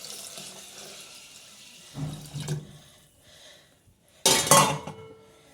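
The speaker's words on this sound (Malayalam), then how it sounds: "ഈ വെള്ളം ഒഴിച്ചു കൊടുക്കുക ആവശ്യത്തിന് വെള്ളം" Water splashes and gushes into a pot in two short bursts, with metallic clinks of kitchenware between them, close by.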